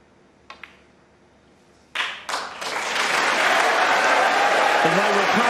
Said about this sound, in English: They were clapping before the blue went in.